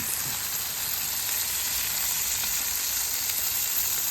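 An egg goes into a hot pan, and a steady, even sizzle of frying holds close and constant without a break.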